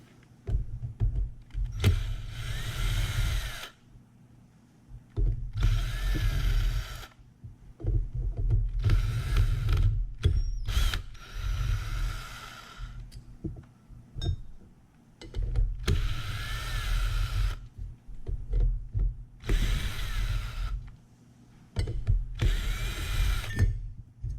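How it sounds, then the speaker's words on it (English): A power driver spins screws out of a tilt telescopic steering column from a 1971 Corvette, sounding as about six loud whirring bursts a few seconds long, separated by short pauses. "So we'll take these screws out next."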